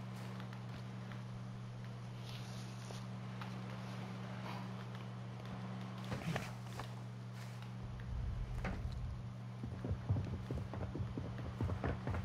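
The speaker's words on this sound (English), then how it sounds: "I hear her footsteps, she's still here." Footsteps of an enemy player moving nearby in Call of Duty: Modern Warfare II, a run of soft, irregular steps over a steady low hum of game ambience, growing busier and louder toward the end.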